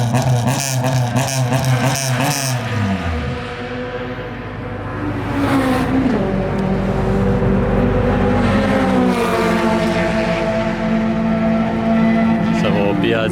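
Time attack race cars in the pits at Central Circuit rumble and rev loudly nearby, engine pitch rising and falling as the cars idle and blip throttles.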